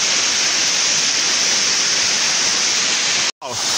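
Cachoeira Itaci waterfall near Paraíso do Norte, heard close up while climbing near its top: a loud, steady broadband rush of falling water, briefly cut near the end.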